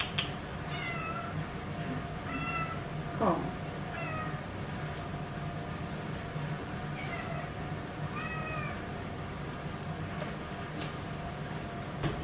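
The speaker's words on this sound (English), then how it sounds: "Yeah, that's my cat." A cat meows several times in short, rising calls spread across the stretch, with a single brief spoken word and quiet room noise between.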